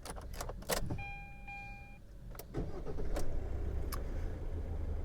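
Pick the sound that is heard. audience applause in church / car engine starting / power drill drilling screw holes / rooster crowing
car engine starting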